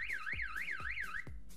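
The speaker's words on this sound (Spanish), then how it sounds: "Con esta activo la alarma" Homemade printed circuit board alarm circuit sounding a rising-and-falling electronic siren tone, steady and fairly loud, with rhythmic thumping pulses under the wail and no voices.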